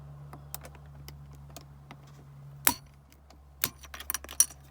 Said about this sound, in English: Stick your new button down in there, just jam it on in there. It should click right in.